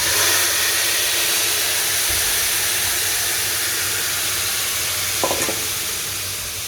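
Hot cardamom-cinnamon sugar syrup is strained and poured onto fried sweet noodles, giving a steady loud hiss and sizzle throughout with a brief clatter near the end.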